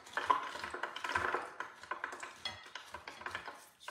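Salted fried plantains are tossed and mixed in a bowl, giving quiet, rapid clinking and rustling of crisp pieces against the dish and utensil.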